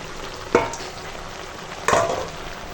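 Fried fish roe dropped into a frying pan over pumpkin greens and stirred, two short scraping, sizzling bursts over a quiet background hiss.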